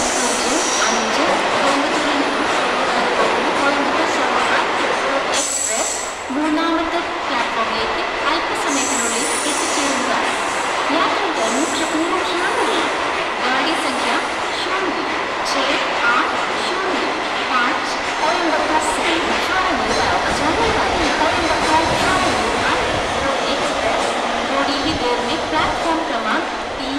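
A Coimbatore–Shoranur MEMU train rolls into Palakkad Junction, its loud steady rumble and wheel noise continuous throughout, with occasional metallic squeals and clanks close by.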